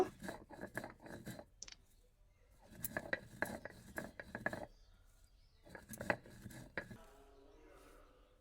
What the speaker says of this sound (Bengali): আমি প্রথমে মিছরিটাকে গুঁড়ো করে নিই